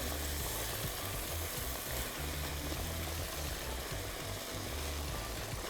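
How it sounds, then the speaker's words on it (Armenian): Mushrooms and onions fry in a pan for a spelt pilaf, a loud, unbroken sizzle with faint stirring underneath and no voices. "Թողնում եմ լավ տապակվի"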